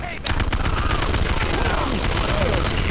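Dense, rapid bursts of automatic gunfire crackle loudly and almost without pause, a firefight in the video game Command & Conquer: Renegade that begins abruptly after a brief quiet moment.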